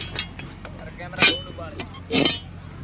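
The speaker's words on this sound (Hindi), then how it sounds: "मैं और 1-2 ढक्कन हटा देता हूँ" Metal lids lifted off the firing holes of a brick kiln chimney produce a few loud, close clanks and scrapes spaced apart, with someone talking between them.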